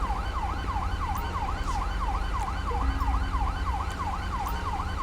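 An ambulance siren in the LSPDFR police video game wails in a steady, rapid rising-and-falling cycle, loud and continuous over a low engine rumble.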